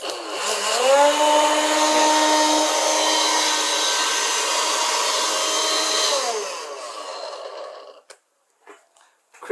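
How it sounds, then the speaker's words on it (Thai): A small 12-volt battery-powered vacuum cleaner whirs up to a steady high-pitched whine, runs for about five seconds, then spins down and stops, followed by a few faint clicks. "เครื่องดูดฝุ่น 12 โวลต์นะครับ"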